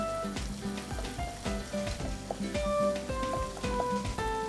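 Chopped garlic sizzles in hot oil while a goat korma is being started, a steady close crackle with stirring bursts recurring through the whole stretch, no voices over it.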